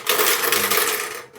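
Metal balls rattle and clatter inside a vintage Mickey Mouse Club toy pinball game, a dense, continuous jangling close up with no pause until it fades near the end.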